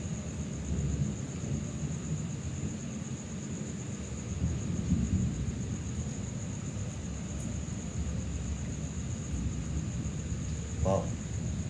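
Rain pours steadily while thunder rolls in low, broad waves, dense and near throughout, with a brief sharp crackle near the end; no voices stand out.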